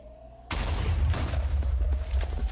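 Minecraft explosions land as a sudden loud boom followed by a second blast and a rumbling, crackling tail of debris, all close and heavy.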